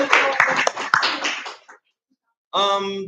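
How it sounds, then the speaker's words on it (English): An audience at a Glendale High School creative writing club showcase at My Place Cafe bursts into close, crisp clapping for about a second and a half. It fades to silence, then a voice starts talking. "So go ahead and clap."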